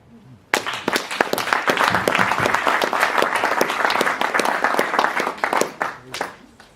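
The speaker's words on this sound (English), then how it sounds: "Please give him a round of applause, ladies and gentlemen." An audience at a Nelson Mandela Foundation event bursts into applause after a short silence, loud, sustained clapping with sharp individual claps, then tapers off after about six seconds.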